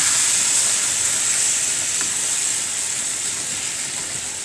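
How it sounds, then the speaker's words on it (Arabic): Liver hits a hot pan and sizzles loudly, a steady, close, bright frying hiss that holds evenly throughout and fades only slightly toward the end. "وعلى طول انزل بالكبده بتاعتي"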